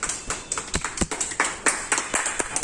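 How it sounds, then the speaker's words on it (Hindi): An audience at a product demo claps, a quick run of separate, crisp hand claps that sound fairly close and moderately loud, with no voices over them. "अगर अच्छा लगे तो ताली बजाए"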